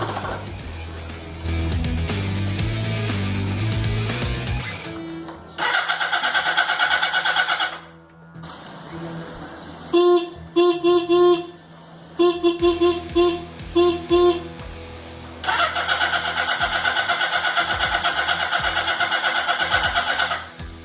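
A Suzuki GS650 G motorcycle is cold started after two months unused, with a mechanical whir, stuttering bursts of cranking and engine noise, and a longer steady run near the end.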